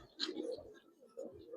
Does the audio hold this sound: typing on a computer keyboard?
no